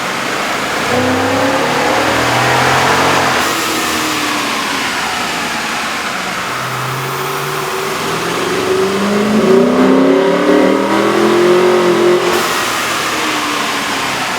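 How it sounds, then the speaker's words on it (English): Jeep Grand Cherokee 5.7L V8 fitted with an aftermarket air intake, revving on a dyno: a loud, steady engine roar that sweeps up and down in pitch through repeated throttle pulls, with no talking. "we ran the vehicle on the dyno to test the sound comparison versus the stock intake"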